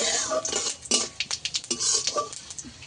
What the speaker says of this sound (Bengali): ফোড়নটাকে আমি ভালো করে ভেজে নেব